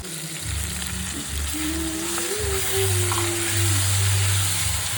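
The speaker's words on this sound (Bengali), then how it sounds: "মশলাটা আমি ভালো করে কষিয়ে নেবো" Chicken masala spices frying in a nonstick wok, a steady close sizzle with low rumbling stirring and scraping throughout, no talking.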